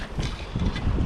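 Gusty wind buffets the microphone on an open coastal clam bed at low tide, a close rumbling roar that swells and eases over a second.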